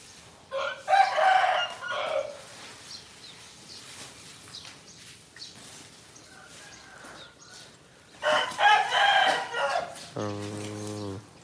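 A rooster crows loudly and close by several times, with long strained calls at the start, middle and end, over a low background murmur at a rural Thai home.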